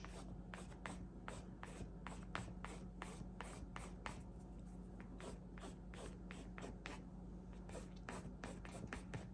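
A brush handle scratches short lines into paint, quick dry scraping strokes repeating close up against a low steady hum.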